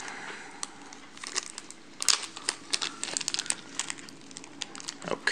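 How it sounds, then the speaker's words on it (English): Thin plastic Ziploc bag being pulled open and handled, a run of close, soft crinkling and crackling with sharper rustles, alone without talk, while unpacking a Raspberry Pi 3 case. "we're going to open up the Ziploc bag"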